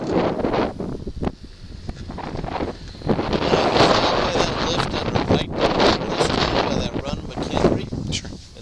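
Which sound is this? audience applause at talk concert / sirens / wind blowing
wind blowing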